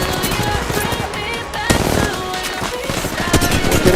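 Rapid automatic gunfire from Apex Legends Mobile, dense bursts of game shots and explosive cracks running loud throughout, with game sound effects layered under it and voices chatting in the background.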